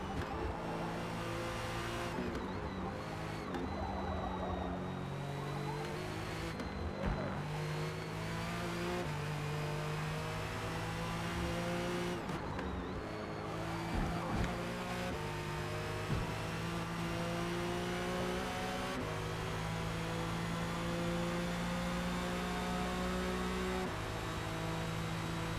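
A Cadillac race car engine in Forza Motorsport at Le Mans, revving hard and climbing through gear changes continuously, loud and close, with no talking.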